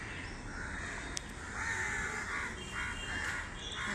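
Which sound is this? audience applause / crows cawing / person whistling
crows cawing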